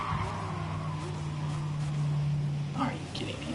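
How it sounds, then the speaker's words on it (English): A race car engine in Gran Turismo Sport drones loud and steady, its pitch shifting slightly as tires skid and squeal briefly near the end, with a person talking over it. "This car is so loud."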